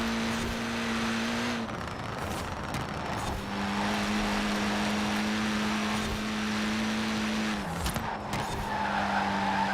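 A Toyota Corolla in the racing game Forza Horizon 4 runs with a loud sustained engine drone, pitch dropping and rising through gear changes, while tires squeal and skid through corners.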